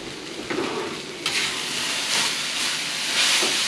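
Onions browning in a pan, giving a continuous hissing sizzle with a few louder bursts where they are stirred, close and alone.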